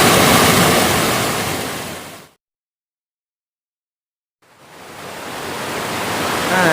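Rushing water at Tat Se Sida waterfall in Laos, a loud, steady broadband roar that drops out to silence for about two seconds midway, then fades back in and builds. No voices.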